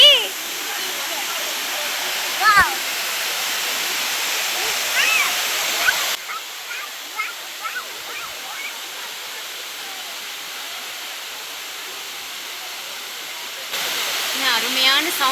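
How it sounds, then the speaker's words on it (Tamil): A waterfall in Kodaikanal gives a steady, broad rushing hiss that fills the scene, with voices speaking over it and a voice breaking in at times. "இந்த அருவியோட அப்படியே ரியலான சவுண்டு இந்த பிளேஸ் ஃபுல்லாக இப்படி தான் இருந்துச்சு."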